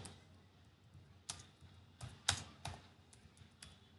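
Python code is typed on a computer keyboard in a few scattered keystrokes, soft clicks then several sharper, louder taps spaced irregularly, close up with no voice.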